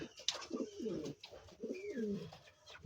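A native pigeon coos close by, two soft rolling coo phrases in quick succession, quiet and alone.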